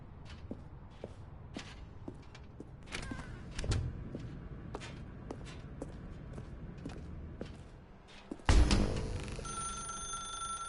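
A telephone rings in The Stanley Parable, a bell-like ring coming through a quiet room tone with footsteps and creaks around it, then turning louder and brighter for the final seconds.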